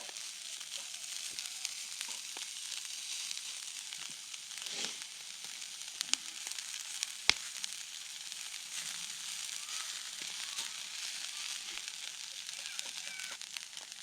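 Hash browns and sausage sizzle on a camp griddle outdoors, a steady, quiet frying hiss with scattered crackles and a few sharp pops or scrapes, continuing throughout.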